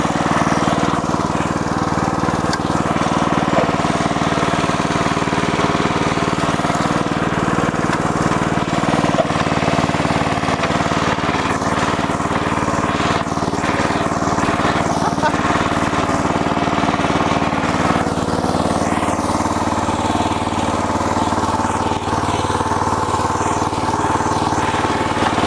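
A Jansen RD300 Pro mini dumper running steadily while hauling wood, its small engine chugging in a constant, loud, close drone with slight variations in load and no talk.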